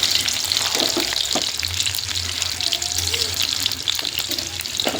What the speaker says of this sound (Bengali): আমার মেয়ে পেঁয়াজ দিয়ে দিচ্ছে তেলের ওপর